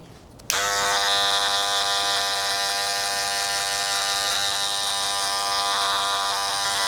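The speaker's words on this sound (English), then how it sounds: "So now I use the 1/16 guard, clipper lever open." An electric hair clipper with a 1/16 guard and its lever open switches on with a sudden click and then buzzes steadily and loudly up close, a constant motor drone with no talking.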